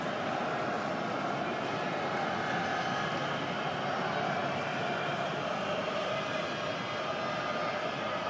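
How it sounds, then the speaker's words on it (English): A jumbo jet roars overhead a football stadium in Frankfurt during a match, a loud, broad, steady rumble that fills the whole stretch without easing. "Sounds like a jumbo jet roaring overhead right now."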